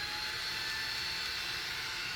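Loud, continuous whooshing roar of a wearable waist fan running at its highest setting, level 10, steady and unchanging with no pauses.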